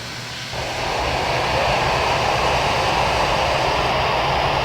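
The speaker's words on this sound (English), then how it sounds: "Those engine sounds are really loud." Jet airliner engines in Flight Simulator X spooling up, a steady loud roar with broadband hiss that swells after the first half second and then holds level.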